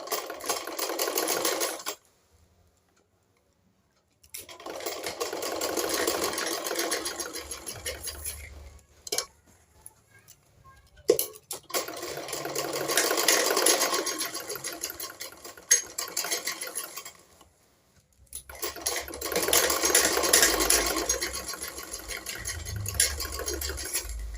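A sewing machine stitching a lined blouse runs in three long whirring bursts separated by silent pauses, with a few sharp clicks between runs.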